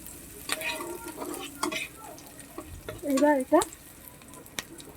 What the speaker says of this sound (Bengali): ভেজে নিচ্ছি, ভাজা প্রায় হয়ে গেছে, খুব একটা ভাজবো না।